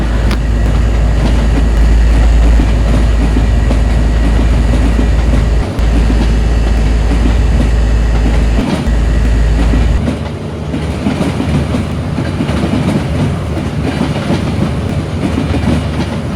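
Loud, continuous onboard train noise: a deep steady air-conditioning hum under rhythmic wheel clatter, with no voices.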